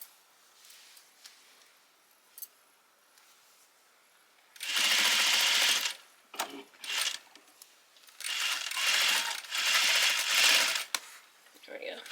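Sewing machine stitching a half-inch seam on a Simplicity 3010 garment, running in loud rapid bursts of a few seconds separated by pauses with faint handling clicks.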